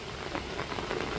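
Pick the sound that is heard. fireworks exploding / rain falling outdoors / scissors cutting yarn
rain falling outdoors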